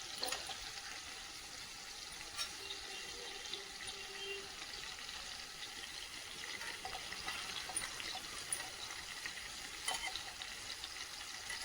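Stuffed capsicums fry in a pan with a faint, steady sizzle, broken by a few soft scraping knocks as they are turned over.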